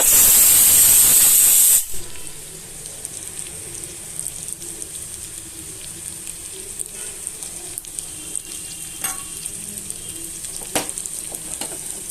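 Loud hiss as mashed potatoes hit hot oil, then a steady, quieter sizzle and crackle of frying that continues with occasional stirring clicks.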